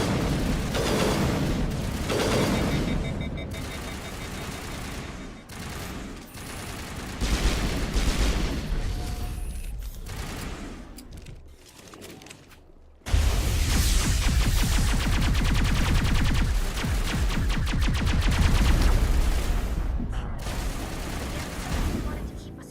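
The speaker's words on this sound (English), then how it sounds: "Manavai is under coordinated crossfire" Sustained crossfire from Geth turrets during a Mass Effect firefight, a dense roar of rapid shots and booms that swells loud after a brief lull, with a voice talking over parts of it.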